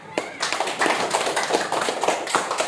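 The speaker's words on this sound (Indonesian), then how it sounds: "benar, tepuk tangan." Students clapping hands together in a social studies classroom after a correct answer, a burst of brisk, fairly close rhythmic claps that carries on steadily.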